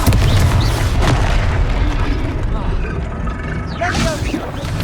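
A Confringo explosion spell from Hogwarts Legacy booms loudly amid layered game effects and a fizzing magical burst, with voices mixed in.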